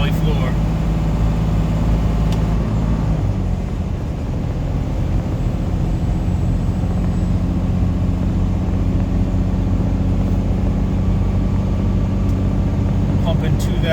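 A truck engine pulling about 2,000 RPM with the Jake brake engaged on a steep 5% mountain downgrade, a loud continuous low droning rumble that stays steady throughout, close and unbroken.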